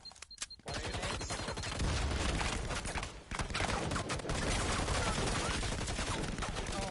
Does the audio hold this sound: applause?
no